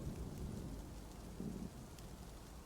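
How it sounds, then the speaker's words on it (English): Ambient rain loop from the Dwarf Fortress video game, a steady, even wash of rainfall with no music, heard alone at moderate level throughout. "It's like rain, basically."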